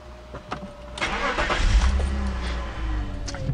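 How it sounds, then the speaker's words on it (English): A BMW E46 engine cranks and catches with a short starter whir, then settles into a steady, fairly loud idle close by; no talking. "So I'm gonna go ahead and start the car."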